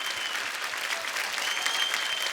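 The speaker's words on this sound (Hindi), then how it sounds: "आपकी जोरदार तालियों के बीच स्वागत करना" A studio audience at a Kapil Sharma Show taping greets actor Irrfan Khan with dense, steady applause, loud and continuous across the whole stretch, with no voices over it.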